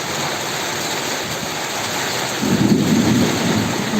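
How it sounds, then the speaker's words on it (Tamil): Heavy rain pours steadily in Chennai while a deep roll of thunder swells in partway through, loud and broad over the constant hiss of the downpour. "சென்னையில் தான் சரியான மழை பெய்யுது"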